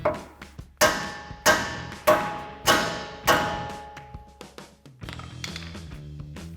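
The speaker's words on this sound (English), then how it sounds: "I'm going to give it a couple taps with a hammer to break that free." A series of sharp metallic hammer taps on a Ram 1500 upper control arm ringing out one after another, close and loud, each decaying briefly before the next strike, followed by scraping clatter.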